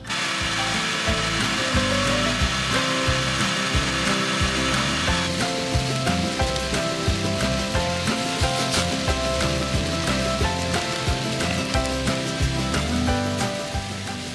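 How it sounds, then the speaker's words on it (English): A battery leaf blower stokes the wood fire under a small homestead maple sap evaporator, giving a steady whooshing roar over crackling, popping flames that continues without letup for the whole stretch, with no voices. "I got this battery leaf blower, and this works very well"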